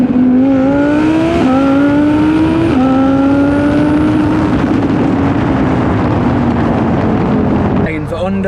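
A 1200hp twin-turbo Lamborghini engine revs hard, climbing in pitch through several quick gear shifts before holding a loud roar, with wind buffeting the microphone.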